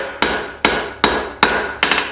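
Five sharp hammer blows on hot iron during hand forging of a candle holder, struck at a steady, roughly even pace, each ringing briefly before the next, with a quicker double strike at the end; close and loud, no talking.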